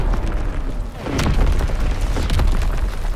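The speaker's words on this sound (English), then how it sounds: "Incoming enemy artillery! Get to cover!" Enemy artillery shells exploding in Call of Duty: WWII, a loud, continuous rumble of deep booms with a sharper blast just past a second, close and heavy with no talking.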